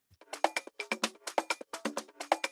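A tech house drum loop built with EQ and sidechain plays alone, a steady run of punchy percussive hits repeating in a tight, even groove at moderate level.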